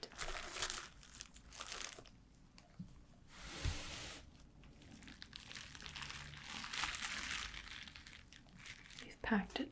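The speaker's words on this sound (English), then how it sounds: "Now, I'm going to start unwrapping your item." An item packed in bubble wrap being unwrapped nearby, with soft, continuous crinkling and crumpling that rises and falls in bursts over the whole stretch.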